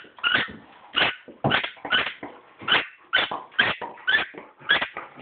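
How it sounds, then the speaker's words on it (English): Squeaky toy ball squeezed by a dog lying in a shower, about ten shrill squeaks in a steady rhythm, close and fairly loud in an echoing space. "You're squeaking your ball in the shower."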